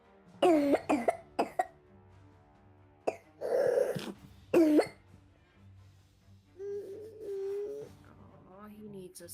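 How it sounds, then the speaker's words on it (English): A person coughs in several short, sharp bursts, close and fairly loud, with brief pauses between them, while others speak and react in the gaps. "his cough's getting him."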